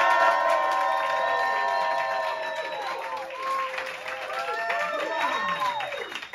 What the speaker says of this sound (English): Lots of cheering and clapping.